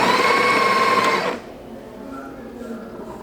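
A Breville coffee machine grinding beans, a loud steady whirring grind that cuts off abruptly partway through, leaving a quiet hum afterward.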